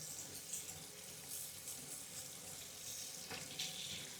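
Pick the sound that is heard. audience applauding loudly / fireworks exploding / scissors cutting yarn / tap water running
tap water running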